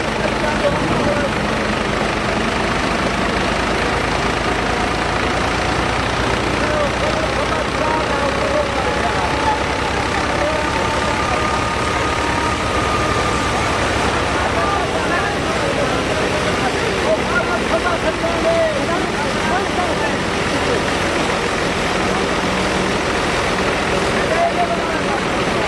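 A wheat thresher machine is driven by a Ghazi tractor engine, a dense continuous rumble and rattle of machinery that stays loud and even throughout, with voices faintly mixed in.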